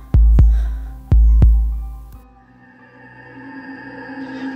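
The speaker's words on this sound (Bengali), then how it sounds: "অসম্ভব দ্রুত গতিতে আমার হৃৎপিণ্ড চলছে।" A heartbeat effect for a horror story thuds twice in heavy double beats, deep and loud, then gives way to a low, eerie sustained drone.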